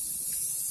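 A steady, close hiss of spray paint from an aerosol can, used to finish a stencil, runs without a break through the short moment.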